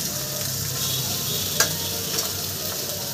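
Mashed potato and jackfruit being stir-fried in spices in a pan, a steady close sizzle with soft stirring scrapes and one brief clink of the utensil, without talking.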